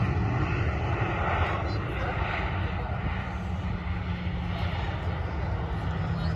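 A TUI Boeing 767 taxiing at Manchester Airport, a steady far-off jet engine roar and whine that holds evenly throughout, with a voice speaking over it.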